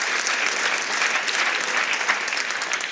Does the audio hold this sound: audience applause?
yes